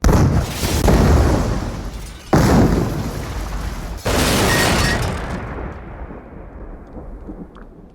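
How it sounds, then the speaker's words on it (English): A cartoon explosion from Family Guy demolishes a hospital: heavy booming blasts in several loud bursts, then a long rumbling decay that fades away, with no talk. "Peter not only wipes out the vaccines, but also completely demolishes the entire hospital"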